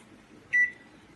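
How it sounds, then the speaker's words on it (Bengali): A microwave oven gives a single short electronic beep as it is closed and set, a clear, sharp tone in an otherwise quiet room. "ভেতরে দেওয়ার পর মাইক্রোওয়েভ বন্ধ করে"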